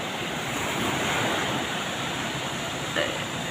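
Ocean waves surge and hiss steadily along a rocky shore where small fishing boats land, a constant loud broadband roar with wind noise and no speech.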